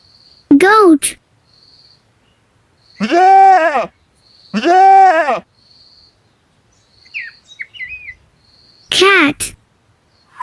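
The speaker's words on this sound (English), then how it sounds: "goat" A goat bleats four times, with loud wavering cries spaced apart and brief silences between them, plus a faint bird-like chirp in the middle.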